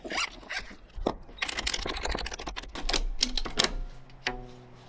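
Husky ratchet strap mechanism clicking in rapid, crisp bursts of ticks, close and fairly loud, with short pauses between runs and a faint buzzing tail at the end.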